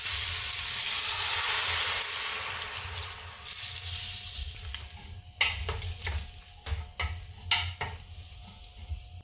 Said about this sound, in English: They're starting to sizzle a little bit, all the water in those berries.